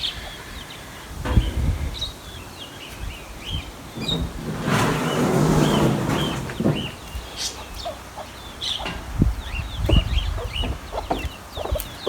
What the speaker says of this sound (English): And we've moved the chickens over here.